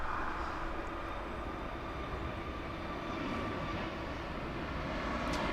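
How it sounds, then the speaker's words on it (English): An Aeromexico Boeing 737 jet passes at LAX, a steady broadband engine roar that holds even and fairly loud throughout, with no talk over it. "There goes the Mexican 737."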